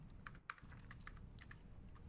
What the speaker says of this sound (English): Oh, I'm typing in chat.